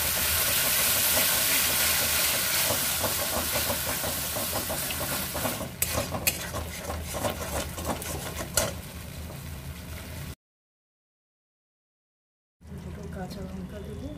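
A kitchen mixer grinds cashews and poppy seeds into paste with a loud, steady whirring roar that fades slightly, breaks into rattles, cuts out to silence and then restarts briefly.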